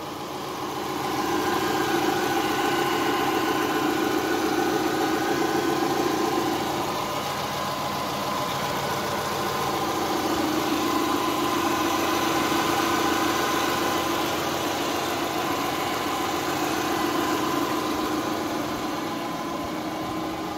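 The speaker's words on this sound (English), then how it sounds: "Engine sounds very, very quiet engine" A Subaru Outback's engine idling, a smooth, quiet and steady hum with a low mechanical drone that holds evenly throughout, with no voices over it.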